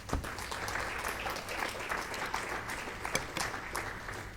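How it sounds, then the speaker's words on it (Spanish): Worshippers at a Spanish-language church service give a round of applause to God, a sustained crowd of clapping hands with a few sharper claps standing out, steady and fairly close. "vamos a darle un aplauso otra vez a nuestro Dios"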